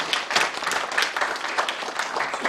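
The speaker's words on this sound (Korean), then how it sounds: "하나님 앞에 감사와 영광의 박수 올려드리겠습니다." A church congregation claps together in dense, sustained applause that holds at an even level for a couple of seconds.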